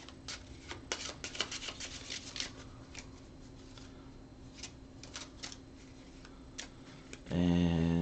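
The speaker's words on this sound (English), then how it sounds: "give these up a good shuffle again" A deck of playing cards is shuffled by hand at a tabletop card game, giving a quick series of soft snapping riffles and taps, close and fairly quiet, that ends in a brief louder buzzing tone.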